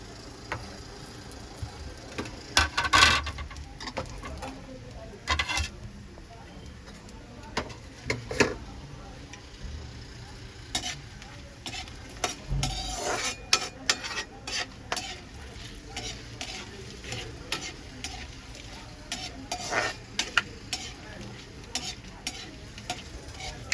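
Whole spices (cardamom, two cloves, four black peppercorns and cumin) tempering in hot oil, a steady close sizzle with stirring scrapes and a few sharp clinks of a spoon against the pan.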